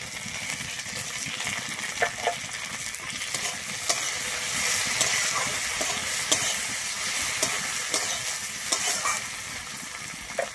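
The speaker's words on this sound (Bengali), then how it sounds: "আমি তারপরে দিয়ে দিচ্ছি এখানে একটা কুচানো টমেটো।" Chopped tomato and three slit green chillies frying in a pan, a continuous close sizzle with periodic sharp clinks and scrapes of a spoon stirring against the metal, with no talking.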